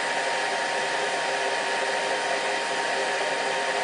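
A heat gun blows a steady, loud, even rush of hot air, close and unbroken, while shrinking heat shrink tubing onto cable ends, with no talking.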